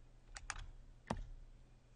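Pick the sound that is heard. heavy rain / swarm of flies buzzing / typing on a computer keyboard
typing on a computer keyboard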